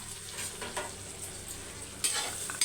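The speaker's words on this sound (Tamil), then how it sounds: "இப்போ இது வதங்கட்டும் இப்போ பார்த்திங்கன்னா வெங்காயம் நல்லா எண்பது பர்சன்ட் வதங்கிடுச்சு" Onions sautéing in a pan until nearly soft, with a steady low crackle and soft spatula stirring, then a couple of sharper scrapes near the end.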